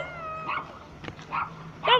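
A small dog yips and barks excitedly while jumping around as a family arrives home from school, giving three short bursts of high barks with a whimpery tone, fairly close by over a steady low hum.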